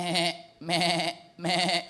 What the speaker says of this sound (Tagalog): then what is all the bleating of sheep and goats and lowing of cattle I hear?